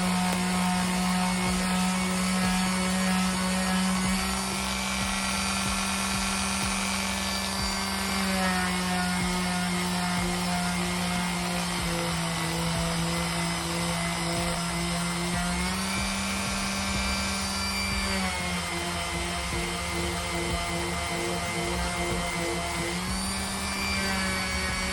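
A power sander runs continuously on an old pine dresser with coarse grit sandpaper, giving a loud, steady motor whine with a rough abrasive hiss that shifts slightly in pitch over the long stretch, no talking.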